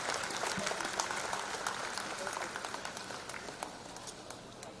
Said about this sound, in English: I would request everyone to continue giving a big round of applause.